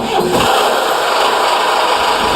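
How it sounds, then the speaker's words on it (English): A skipjack boat's engine running loud and steady right after starting, a dense continuous roar and hum close by with no pauses. "Looks like we've got sufficient charge to start the engine, so we'll give it a go."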